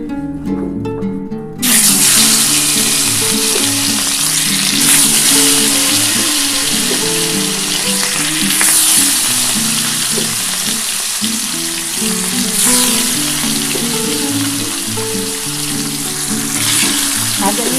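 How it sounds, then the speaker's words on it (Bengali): Katla fish pieces coated in salt and turmeric hit hot oil after a brief near-silence, breaking into a loud, sustained close sizzle with bubbling spatter that continues evenly to the end. "এই তেলের মধ্যে আমি মাছগুলো ভেজে নেব"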